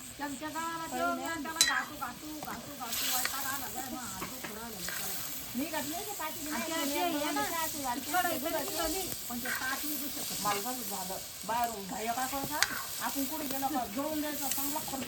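Roasted ground masala fries in oil on a wood-fired village stove, making a steady close sizzle and hiss with stirring scrapes, while people talk through it.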